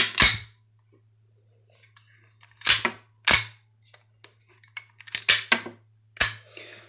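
Sharp cracks from a mini GAP blank-firing pistol, about half a dozen separate loud shots at irregular spacing, with small mechanical clicks and handling noises between them and a low steady hum underneath.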